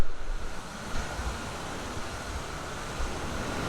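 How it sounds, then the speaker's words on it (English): Rushing water from a waterfall in Wells Gray Provincial Park, a steady broadband roar heard from a short distance with no talk over it. "You can probably hear the water behind me."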